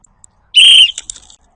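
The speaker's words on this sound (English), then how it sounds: "Ooh, it's a whistle. It is a whistle." A small ball-shaped toy whistle pulled from a boat clear-out gives one short, shrill, piercing blast, close and loud, followed by a faint rattling trail and then silence.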